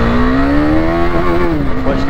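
A Husqvarna Vitpilen 250 motorcycle accelerates from the start of a ride, its engine a loud, close, rising drone whose pitch climbs steadily and then dips slightly.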